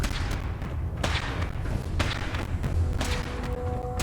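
Weapon fire in Fallout 4 during a Brotherhood of Steel power armor suit test: several sharp thuds land at roughly one-second intervals over a constant low rumble, each a short broadband crack.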